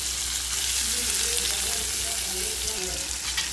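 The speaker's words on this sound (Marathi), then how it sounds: "कांदो थोडं ब्राऊन होईपर्यंत ते काय जरा भाजायचा व्यवस्थित." Onion sizzles and fries steadily in a hot pan for dahi bhindi, a loud, continuous crackling hiss with faint stirring, close up and without talk.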